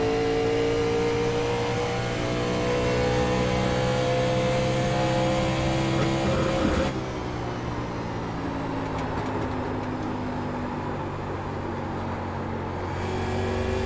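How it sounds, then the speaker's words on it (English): Several NASCAR Cup car engines in the iRacing video game at Nashville Superspeedway drone and whine loudly together, pitches shifting as they lift off and back on the throttle, with a sudden drop partway through. "You'll never hear off throttle time like that in a cup car at a track this size ever again"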